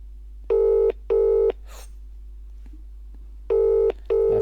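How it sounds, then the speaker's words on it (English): An outgoing phone call rings on loudspeaker, two pairs of double ring tones separated by a long quiet gap, clear and steady over a low electrical hum. "and it's ringing."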